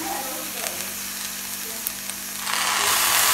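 Boiled green rice fries in a hot pan and sizzles steadily, then the hiss swells louder as a splash of vinegar is poured in.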